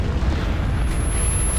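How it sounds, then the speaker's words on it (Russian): An explosion in the video game Metro: Last Light booms as a dense, sustained rumble with heavy low end and no clear onset, filling the short moment without any voices. "О, вот он, взрыв этот."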